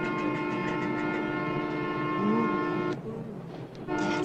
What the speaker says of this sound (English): Train, vibration.